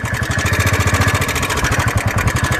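A motorcycle engine runs steadily at close range, a loud, even low putter with a rapid pulsing rhythm and no sharp revving.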